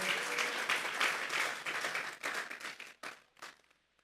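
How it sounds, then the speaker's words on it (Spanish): Church congregation applauding together during a sermon, a dense burst of clapping that thins into a few scattered claps and fades out over about four seconds. "Denle esa ofrenda de palmas a Dios en esta hora."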